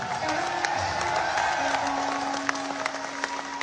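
A crowd claps and cheers at a live show in Canada, with a steady roar of applause and a few whoops over a sustained musical tone.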